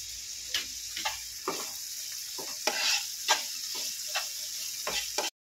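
Chopped onions frying to light brown in a pan, a soft sizzle under rhythmic spatula scrapes and taps repeating about once a second, up close, ending abruptly.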